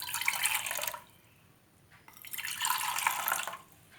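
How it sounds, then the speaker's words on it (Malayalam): Cold water poured into a cup in two close, splashing bursts separated by a short pause, with no voices. "ഇതിലേക്ക് നമ്മൾക്ക് തണുത്ത വെള്ളം കുറച്ച് ഒഴിച്ചു കൊടുക്കാം"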